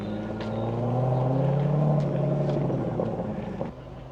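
A classic Aston Martin pulls away at a British classic car meet, its engine rising in a smooth, swelling drone, loud and near, then easing off as it moves away.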